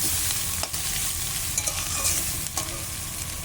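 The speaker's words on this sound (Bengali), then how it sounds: "এবার এটা দিয়ে ভালো করে ভাজবো" Radish and egg stir-fry sizzles steadily in a pan, with a spatula scraping and stirring through it in a few brief strokes, close and continuous without talk.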